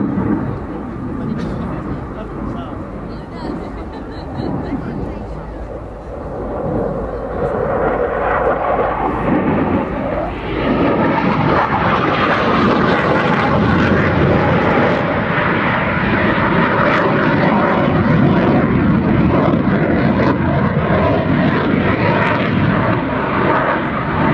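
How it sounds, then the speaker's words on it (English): A Saab Gripen jet roars past in a high-speed flypast at RIAT 2014, its engine noise building to a loud, sustained broadband rush that stays intense and steady. "High-speed flight past there."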